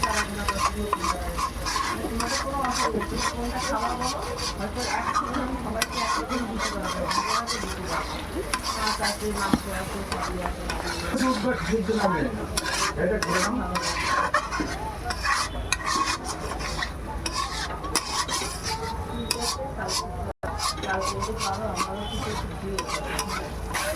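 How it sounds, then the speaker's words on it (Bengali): Chicken pieces are stir-fried in a pan for a Bengali-style kosha curry, producing a dense, continuous sizzle layered with constant scraping and rubbing of the spatula, close and loud throughout. "কষানো চলছে প্রায় 10 মিনিট হয়ে গেল কষানো।"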